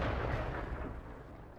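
A tank gun booms loud and close in World of Tanks, the Object 140 medium tank firing one heavy shot whose rumble and rolling echo fill the whole moment with no voices.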